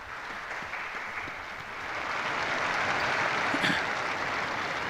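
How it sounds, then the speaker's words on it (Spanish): An audience applauds a newly beatified Catholic figure, a steady wash of many hands clapping that swells slightly midway and holds without any talk. "Un aplauso para este nuevo beato."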